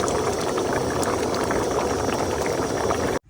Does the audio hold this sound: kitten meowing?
no